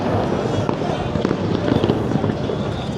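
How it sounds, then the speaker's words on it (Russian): Firecrackers burst outside a football stadium before a match, a dense crackling barrage of loud pops and bangs under a noisy crowd. "Петарды, заряды."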